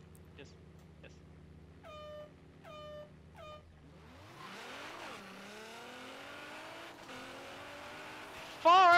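A 2017 Nissan GT-R drag racing in Forza Horizon 3, its engine note rising sharply from a low idle into a loud, climbing rev through gear changes, with brief chirpy tones early and a sudden loud burst at the end.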